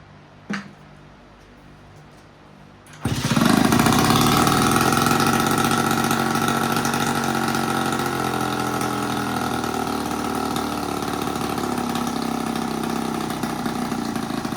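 A scooter engine catches after a faint click and a short quiet stretch, then runs loud and steady at a rattly idle, close by, for the rest of the time with no talk.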